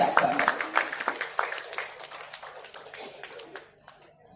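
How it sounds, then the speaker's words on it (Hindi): An audience at a university award ceremony in India claps to welcome a guest, a dense burst of applause that thins and fades over a few seconds, with a voice over a speaker system at the start. "एक बार जोरदार तालियों के साथ स्वागत"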